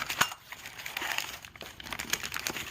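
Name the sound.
packing paper being crumpled while unboxing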